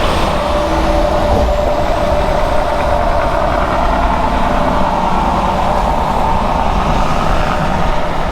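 A heavy truck rumbles past at close range on a highway near the Tappan Zee Bridge, a loud, steady engine drone with broad road noise that holds for several seconds without any voices.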